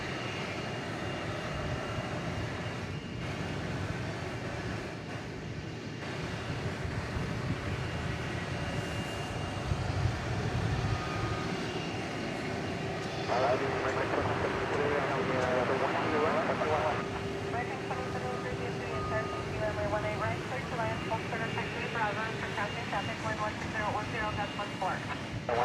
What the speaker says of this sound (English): So let's see if we get to see a nice 757 climb out here